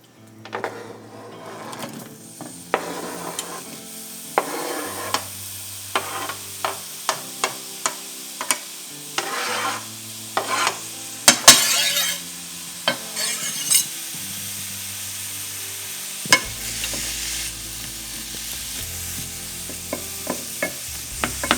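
Food sizzling in olive oil in a pan for beef stew, with a steady fry hiss under a run of regular clacking scrapes and taps from stirring, close and fairly loud.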